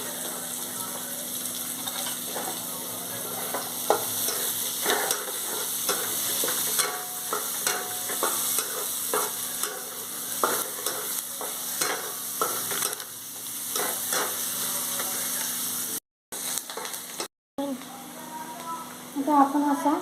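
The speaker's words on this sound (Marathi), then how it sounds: "थोडासा भाजला की त्याच्यात कांदा आता आपण याच्यात कांदा घालूया" Onion sizzles and fries in a pan as a spoon stirs and scrapes in frequent short strokes, with a steady hiss throughout, close and moderately loud, and a voice briefly heard over it.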